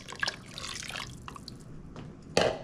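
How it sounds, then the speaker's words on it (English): Water poured from a tap into a pot of simmering tomato soup made from tomato paste, heard as soft splashing and dripping with a louder splash near the end. "I'm just gonna add a little bit of water to it"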